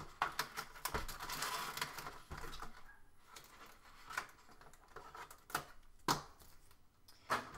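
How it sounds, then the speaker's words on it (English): Packaging tape on a Bandai D-Arts Wargreymon action figure box being cut, a series of sharp snips and scraping strokes with irregular clicks, close up and moderately quiet, with no talking. "More tape to cut."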